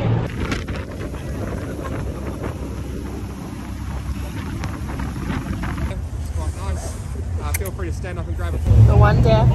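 A jet boat engine drones close by in Queenstown, New Zealand, amid wind buffeting the microphone, with voices talking over it and the roar swelling louder near the end.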